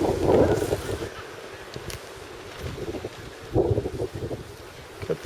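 Wind buffeting the microphone at a campsite among tents, loud rumbling gusts that come and go unevenly.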